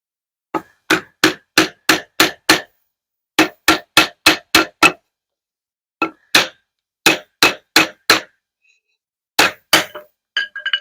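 A stick strikes the spine of a Tkell Knives Outerlimitless Accomplice knife again and again as it batons through a 3/4 inch wood dowel. Sharp, loud, close wooden knocks come in quick bursts of five or six, with short pauses between bursts.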